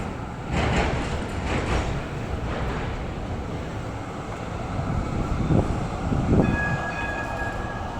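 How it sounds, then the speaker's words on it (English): Melbourne trams rolling along city street tracks, a continuous loud grinding rumble of wheels with several brief bright bell-like rings near the end and outdoor street noise around it. "You hear that ding ding of the trams."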